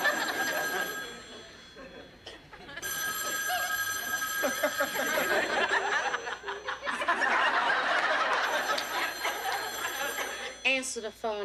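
A telephone rings in a police station in a sitcom scene, its bell trilling in repeated bursts beneath people talking and chuckling, with a studio audience's laughter rising between lines.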